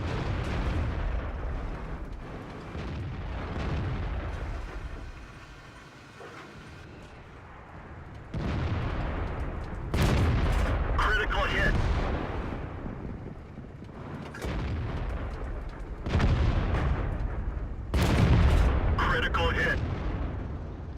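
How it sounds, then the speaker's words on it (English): Tank cannons fire in World of Tanks on the Himmelsdorf map, with several booming shots and sharp cracks spread across the stretch, some louder and closer than others, while someone talks over much of it. "Couple of long-range shots there just penetrated."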